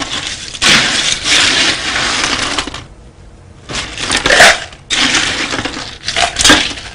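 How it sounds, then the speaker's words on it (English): Ice cubes are scooped and dropped into a cocktail shaker in three loud rattling bursts of crunching, clattering cubes, separated by brief pauses, close to the microphone. "Got the ice in the shaker."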